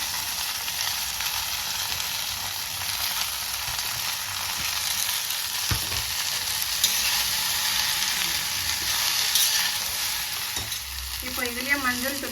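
Okra (lady's finger) frying and sizzling in a pan for a Tamil vegetarian meal, a steady close hiss broken by stirring scrapes, with a short metallic scraping near the end; no one speaks.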